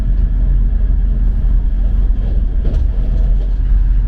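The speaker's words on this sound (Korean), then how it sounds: "이른 새벽 2시간 반의 기차 여행은 생각보다 금방 지나갔다" Early-morning passenger train running from Bukhara to Samarkand in Uzbekistan, a loud steady rumble of wheels and carriage noise with a few faint clacks, continuous and close with no talk.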